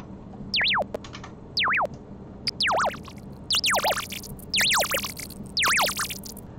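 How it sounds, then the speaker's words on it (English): Pure Data pitch-shifting effect with randomization, producing repeated swooping electronic chirps that glide sharply up and down, six or so bursts in a steady series over a low hum. "I just did it to demonstrate how pitch shifting works"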